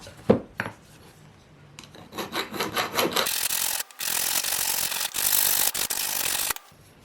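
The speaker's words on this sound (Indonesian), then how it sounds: "Ini saya coba ratakan pakai kikir untuk membuang serpihan-serpihan di sini nih." Small hand file rasping along the edge of a DOLIZ BA126 electric planer part, with a few sharp knocks and then sustained back-and-forth scraping strokes in bursts, close and moderately loud.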